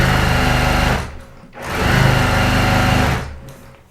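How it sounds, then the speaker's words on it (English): Sewing machine stitching scrap quilt pieces, a loud close whirring motor buzz in two long runs separated by a brief pause, then tapering off. "And I'm just going to sew down the sides of both of those and bring them back over so you can see them."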